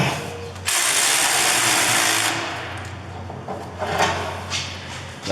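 A ratchet wrench tightens a bolt during a Peugeot 308 front wheel bearing change, giving a loud burst of rapid clicking that eases into quieter, intermittent ratcheting strokes, close up and with no talking.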